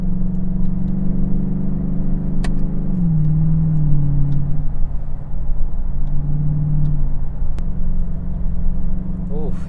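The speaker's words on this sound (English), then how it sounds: "Oof, you can never get tired of hearing that LS2. Motor sounds fantastic, guys." A Chevrolet TrailBlazer SS with its 400 hp LS2 V8 engine while driving, a loud, close, steady engine drone with the pitch dipping and rising as the SUV shifts and pulls, plus faint clicks.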